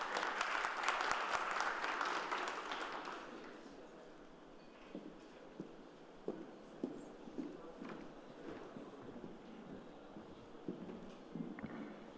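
Audience applause welcoming a speaker to the podium at an international construction workshop in Antalya, a dense burst of clapping for about three seconds that fades to scattered claps and knocks in a quiet hall.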